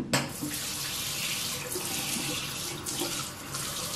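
Cold water runs steadily from a tap into a sink for wetting hands, a continuous close hiss and splash lasting throughout with no talking.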